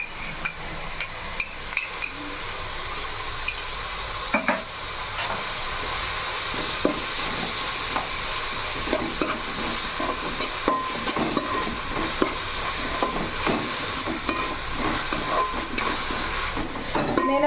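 Mushroom and chicken curry with masala paste and coriander fries steadily in a pan, a constant hiss broken by repeated clicks and knocks of stirring, with no talk.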